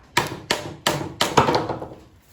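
A PVC pipe fitting being knocked back off a clothes-drying rack with a hammer: four sharp, fairly loud blows at a steady, unhurried pace, the last one ringing a little longer.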